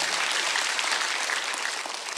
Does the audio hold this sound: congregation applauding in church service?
yes